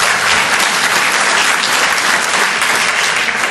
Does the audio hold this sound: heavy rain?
no